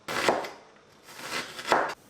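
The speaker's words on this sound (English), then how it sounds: "then you can just keep chopping your onion" Two broad, crunchy chopping strokes of a knife through onion on a cutting board in a home kitchen, each a short burst of crisp noise, close and clear with a quiet pause between them.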